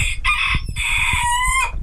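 A young rooster crows loudly and close by at a poultry farm, one full cock-a-doodle-doo in several rising and held parts.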